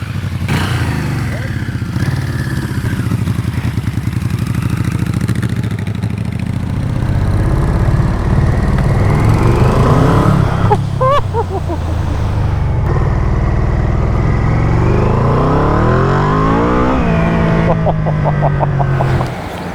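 A Yamaha Vmax motorcycle engine, loud and close, idles roughly and then revs up in several rising and falling sweeps, running continuously throughout.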